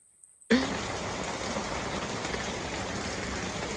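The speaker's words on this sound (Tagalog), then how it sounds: "Lakas ng ulan dito" Heavy rain pouring down steadily, a dense, loud hiss of drops on surfaces that starts abruptly after a brief silence and continues unbroken.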